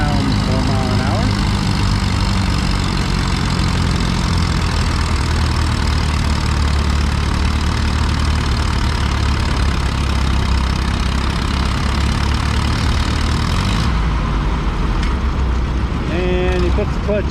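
A Farmall 400 tractor's engine roars loud and steady under load as it drags a heavy weight-transfer sled at a vintage farming days tractor pull, then drops off sharply near the end.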